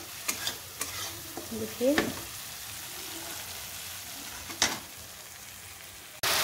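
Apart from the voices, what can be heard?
frying masala spices with onion in oil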